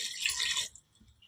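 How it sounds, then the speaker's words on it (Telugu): Water poured into a cooker pot holding mutton boti, a short bright splashing gush that stops abruptly after a moment, leaving faint drips. "ఇప్పుడైతే నీళ్ళు వేసుకుందాము."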